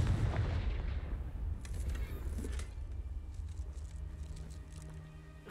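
The Confringo fire spell in Hogwarts Legacy erupts as a loud booming blast, followed by crackling, rumbling aftermath that slowly dies down over several seconds.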